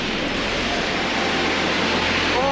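The Yarlung Tsangpo river pours over a steep waterfall in a constant broadband roar, a heavy rushing wash that holds steady and grows slightly stronger toward the close.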